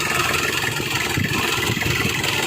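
A 2002 Nissan Frontier pickup engine idles steadily and evenly, a continuous close-up mechanical hum with no misfires or revving, heard alone without talk.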